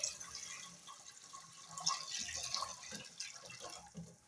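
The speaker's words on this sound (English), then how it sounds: "go ahead and add some water" Water poured into a cooking pot for coconut rice, a continuous splashing and gurgling stream with small drips, fairly faint and close, no talking.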